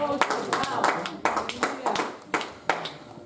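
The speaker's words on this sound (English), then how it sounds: "Clap your hands and celebrate God" Congregation clapping hands during a church sermon, a series of sharp, rhythmic claps at a steady pace under a preacher's loud speaking voice.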